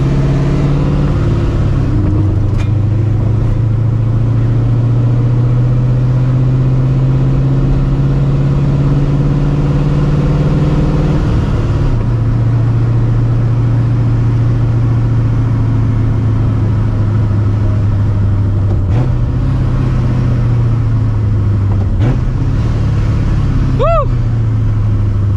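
A supercharged New Edge Ford Mustang GT with a 700 hp setup and a manual clutch, its engine droning loud and steady from inside the cabin, with a couple of gear-change dips as the pitch settles back between pulls.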